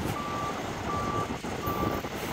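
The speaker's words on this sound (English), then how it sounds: "Forklift truck is backing up." A forklift truck backing up at a work site with a welder and pile driver nearby sounds three evenly spaced reversing beeps over a steady rumble of machinery.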